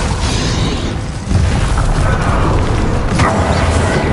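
Repeated booming blasts from Bombarda and other combat spells in Hogwarts Legacy, loud and dense, one swelling burst after another with a heavy rumble and a sharp crack near the end.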